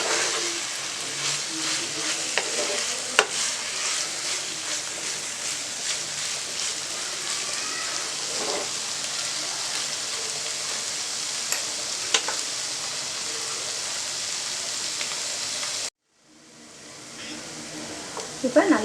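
Jeera mutton fries in oil in a pan until dry, a continuous close sizzle with occasional stirring clicks, then a sudden cutoff and a faint sizzle returning.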